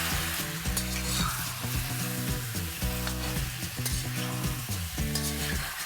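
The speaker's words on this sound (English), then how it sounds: "To this, let's add a tablespoon of garlic paste, a tablespoon of ginger paste, and let's saute it" Garlic and ginger paste sautéed in a hot pan for a chicken curry, with steady sizzling and spatula stirring over a music bed.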